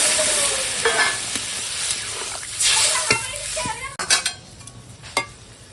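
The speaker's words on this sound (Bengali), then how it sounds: "এখন দিয়ে দিলাম জল" Water hits a pan of spiced vegetables for a vegetarian cauliflower curry, bursting into loud hissing sizzle that surges, then fades into uneven crackles and a few sharp clinks toward the end.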